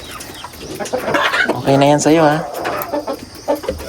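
Someone's chicken clucks a few times up close while a person speaks over it.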